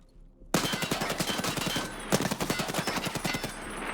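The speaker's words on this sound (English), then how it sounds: "if I shoot with an unsuppressed gun, loud gun." Rapid, loud unsuppressed gunfire from a firearm in the video game Escape from Tarkov, fired at night through night-vision goggles. The shots come in quick, steady bursts with a brief pause partway through, close and alone with no talking.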